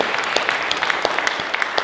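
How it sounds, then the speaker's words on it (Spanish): Church congregation clapping hard together at a Spanish-language service, a loud, fast, sustained burst of many hands with sharp individual claps standing out across the whole stretch. "Le da ese aplauso fuerte."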